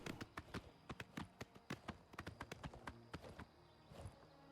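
In Oblivion Remastered, a horse's hooves clip-clop in a quick, uneven trotting rhythm, soft but distinct, tapering near the end.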